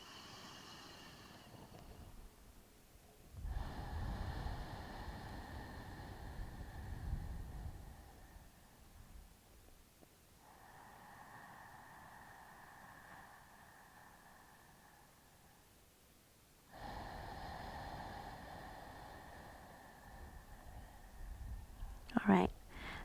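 Slow, deep breaths during a yoga rest pose with the forehead on a pillow: long airy inhales and exhales, close and soft, coming in several drawn-out rounds separated by quiet pauses.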